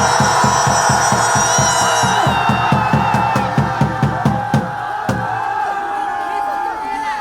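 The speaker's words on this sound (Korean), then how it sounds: "감사의 뜻으로 크게 감사합니다. 함성 한번 질러주십시오." A large outdoor crowd at a political rally at Dongdaegu Station shouts and cheers loudly, with rhythmic, evenly spaced clapping or beats that fade out before a sustained roar.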